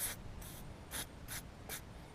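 A spray can gives short hissing bursts of lubricant onto a bolt on a Briggs & Stratton 15.5 engine during a head gasket job, five quick sprays in a row, close and alone.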